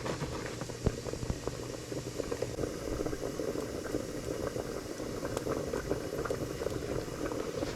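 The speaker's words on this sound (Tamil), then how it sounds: "மலை சோம்பேறி பீஃப் கொதிச்சுக்கொண்டிருக்கு" Beef curry boiling in a pot on the stove, a steady close bubbling and gurgling that continues without pause and with no voices.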